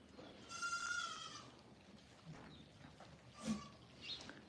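Goats on a farm bleat, one drawn-out wavering cry near the start and shorter calls later, faint and fairly distant over a quiet outdoor background.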